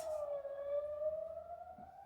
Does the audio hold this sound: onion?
no